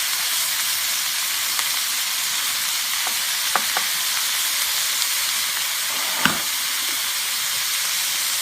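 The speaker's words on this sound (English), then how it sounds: "I'm just going to take about half a teaspoon of ginger and garlic, and I'm just going to put it right in the middle here. Let that cook up just a little bit." Ginger and garlic frying in a pan for an orange beef stir fry, a steady close sizzle and hiss with a few faint clicks of a utensil and no talking.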